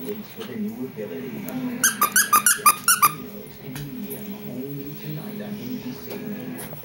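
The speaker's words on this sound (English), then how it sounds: "Can you squeak it?" A Shih Tzu squeezes a squeaky toy, producing a quick run of about eight sharp, high squeaks close by, surrounded by a person's talking.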